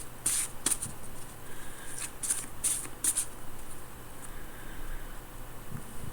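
A deck of cards being shuffled by hand, with several quick riffling bursts close up in the first half, then quiet handling noise.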